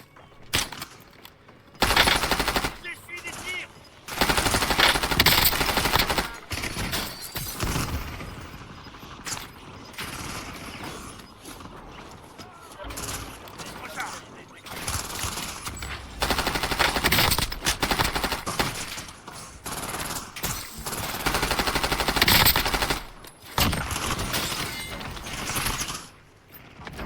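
Bursts of automatic and single gunfire in the video game Call of Duty come in irregular clusters, loud rattling volleys separated by short quieter gaps, with mechanical clicks between.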